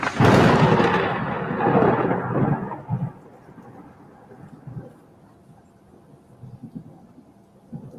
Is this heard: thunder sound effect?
yes